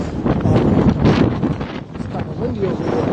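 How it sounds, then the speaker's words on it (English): Gusty wind buffets the microphone in rough, uneven rushes on a New York City street at night, with a faint murmur that could be distant voices underneath. "It's kind of windy over there."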